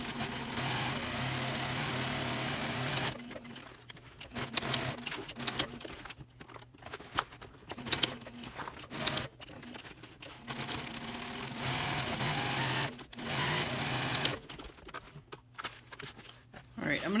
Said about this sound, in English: Now we're ready to go to the machine. We're gonna stitch down the side, across the bottom, and then back up.